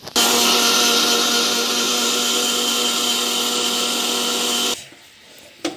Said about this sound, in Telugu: షుగర్ని మిక్సీ చేసుకుందాం.